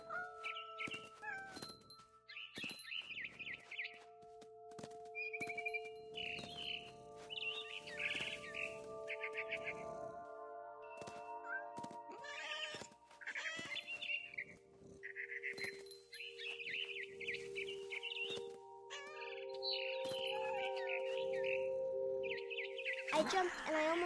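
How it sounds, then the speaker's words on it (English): A barn swallow chirps near a window in a long run of bright, rapid twittering calls and trills. Scattered short bursts sound close and clear, and a lower background tone runs beneath them. "Then I heard chirping outside my window. It was a barn swallow going back to her nest."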